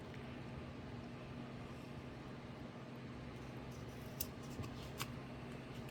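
Scissors trimming paper tags, a few faint quick snips near the end over a steady background hum, with no voices.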